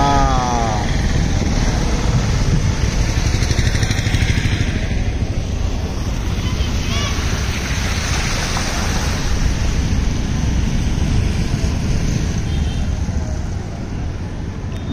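Floodwater covers a road after torrential rain, a loud continuous roar and rush of water mixed with wind buffeting the microphone, steady for about fifteen seconds.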